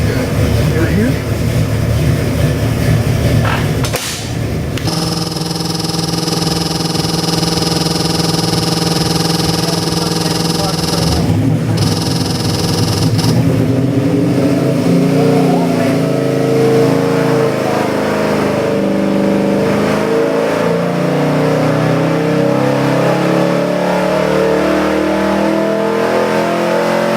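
A 540 cubic inch big-block Chevrolet V8 crate engine in a 1967 Chevelle runs loud and steady, with a burst of revving early on before settling into a rough, high idle; voices talk faintly underneath.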